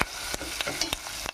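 Turmeric and spices fry in a pan, a bright, steady sizzle with a few clinks and scrapes of a stirring spoon, cutting off abruptly after a brief moment.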